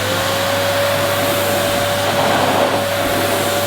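A vacuum cleaner from a roundup of new and vintage Hoover models runs steadily after a foot-switch start, a loud constant motor whine with a fixed tone, close by and without speech.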